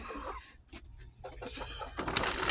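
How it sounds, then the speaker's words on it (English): Backyard chickens cluck softly and intermittently at close range before feeding, with rustling and faint background noise that grows slightly louder toward the end. "Let me go ahead and feed these chickens."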